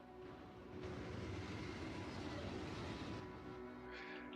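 A train rumbles past in the Satisfactory factory-building game, a faint, low rolling drone that swells after the first second, holds, then eases off toward the end.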